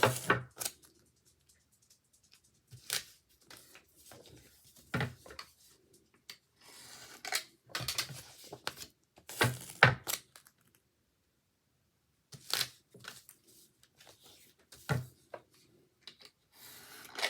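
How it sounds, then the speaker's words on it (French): Double-sided tape being peeled and pressed onto paper for a scrapbooking page: intermittent close rubbing, crinkling and tearing bursts separated by quiet gaps. "On met du double face."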